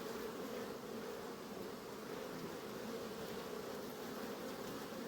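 Honeybees at an apiary at night, with foragers still bringing in white pollen, make a soft, even hum of many wings that stays constant and unbroken throughout.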